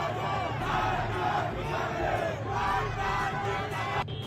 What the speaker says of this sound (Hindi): प्रदर्शनकारी ईरान की कठबुल्ला सरकार के विरोध में नारे लगा रही हैं